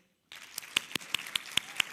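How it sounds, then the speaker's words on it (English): Sparse, thin applause from a small audience at a makers festival event starts abruptly, with a handful of distinct claps standing out at a steady pace over a faint wash of clapping. "let's give a huge round of applause to AGGPSA"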